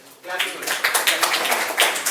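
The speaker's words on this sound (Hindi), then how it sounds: "सही है तो हमें तालियां होनी चाहिए फिर।" Students applauding in a coaching class at an Aakash BYJU'S branch, dense clapping swelling after a quiet start and continuing steadily, close and lively, with voices mixed in.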